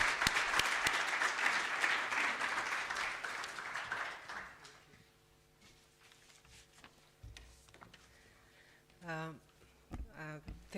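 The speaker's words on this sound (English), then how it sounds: "Professor OSSOME, can we just give a round of applause, colleagues?" Audience applause at a university lecture swells loudly for several seconds, then fades out, leaving a single speaker talking at a podium with light room echo.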